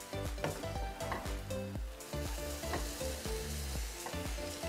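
Candied croissants sizzle in honey in a hot pan, a steady loud frying hiss with repeated clinks and scrapes of a utensil flipping them, close and continuous.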